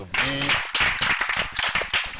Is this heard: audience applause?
yes